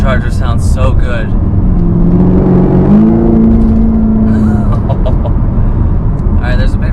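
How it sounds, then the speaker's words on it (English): The supercharged 650 hp Chevy Camaro ZL1 accelerates with a heavy engine rumble and a rising supercharger whine that climbs, steps up and holds, while people talk excitedly over the noise inside the car. "you can hear like the supercharger whine too"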